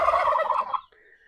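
A farm turkey lets out a single rapid, warbling gobble, close and clear, ending abruptly and followed by a faint higher call.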